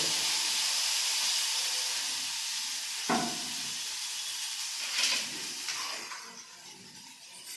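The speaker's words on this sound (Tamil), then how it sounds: "எண்ணெய் ஊற்றிட்டு நல்லா இந்த இந்த எண்ணெய் காஞ்சிட்டு அதில் முள்ளங்கியை போட்டு நல்லா பொறிச்சு வரணும்" Radish slices frying in hot oil give a steady broadband hiss and sizzle with a few brief louder bursts, close and continuous with no talking.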